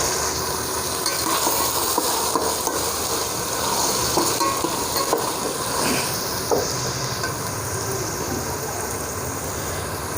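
Mutton sizzles and fries steadily in a pan while being stirred, with scraping and clinking of the spoon against the pan running throughout, close and fairly loud.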